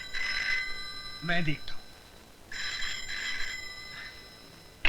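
A telephone bell rings in two bursts, with a bright, tonal, repeating trill. A short spoken line falls between the rings, and the ringing is moderately loud and close.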